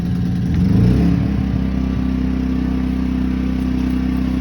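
A Hyundai HY2000SI inverter generator idles steadily and close by, a low constant hum with a slight surge near the start, then settling into an even drone.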